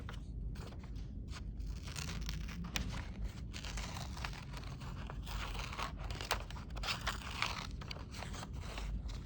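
Scissors cut a bush shape out of paper for a winter landscape craft, giving a continuous close crunching and scraping with small snips, alone and fairly steady.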